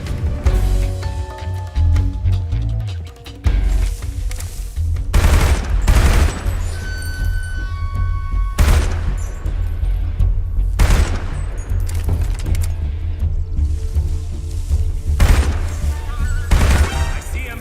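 Loud bursts of machine gun fire in Metal Gear Solid Delta crack out in several sharp volleys, layered with booms and game music. A voice talks now and then.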